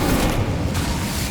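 Incendio fire spell cast in Hogwarts Legacy: a loud, broad whooshing roar of flame with a low rumbling body, filling the brief moment without pause.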